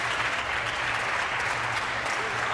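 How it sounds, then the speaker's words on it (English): Sustained applause fills the Ontario legislature chamber as government members stand and clap, a dense, steady wash of many hands at close range with no break, no talk over it. "The Ford government is standing up and applauding."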